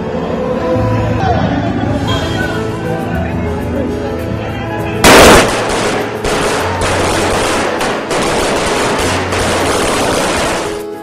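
Firecrackers burst in dense, rapid strings at New Year celebrations in Chennai, loud and nearly continuous, with a sharp bang near the middle and crowd noise underneath.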